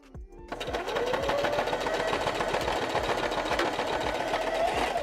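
Sewing machine stitching fabric for a puppet body in a workshop, a steady rapid mechanical whir that runs continuously and loudly through nearly the whole stretch after a brief quiet start.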